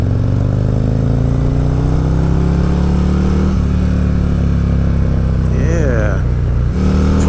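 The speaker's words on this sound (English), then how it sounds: "Smooth downshift, but it's got that little rumble to it, that shake, that Harley feel" A Harley-Davidson motorcycle with a Bassani 2-in-1 exhaust, ridden on a Bike Week road test, gives a loud, close, steady engine rumble, with the pitch shifting at gear changes partway through and again near the end.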